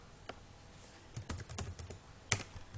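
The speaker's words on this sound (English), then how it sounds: "Open a new Excel sheet and type in any data." Keys clack on a computer keyboard as data is entered into an Excel sheet, a quiet, close run of irregular taps with a small burst of quick strokes and one sharper keystroke near the end.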